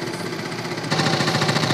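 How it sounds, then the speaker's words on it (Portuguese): A tractor engine running in Brasilian Farming Simulator, a steady close mechanical chugging that rises to a louder, rougher revving rattle partway through, with no talk. "Um motor de moto aí, ó. Trator."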